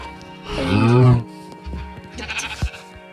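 A sheep lets out a loud, wavering bleat up close, followed by quieter shuffling and another shorter bleat in the background.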